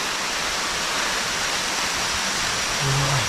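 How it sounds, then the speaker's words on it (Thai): Rain falls steadily in a forest, a dense even hiss of drops filling the whole stretch, with a brief low tone near the end. "ฝนตกได้บัดนี้"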